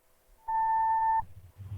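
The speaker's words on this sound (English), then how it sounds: "Please leave your name and phone number after the beep." An answering machine gives a single clean electronic beep, a steady tone lasting under a second, loud and close. Faint low room noise follows it.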